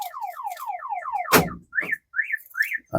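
Door-open warning beeps from a Force Traveller van with one door left open, a repeated rising-falling electronic chirp sounding several times in a steady rhythm, broken midway by a brief loud thump, then continuing in evenly spaced chirps.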